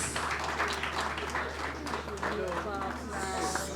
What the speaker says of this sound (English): please, a round of applause for Nice!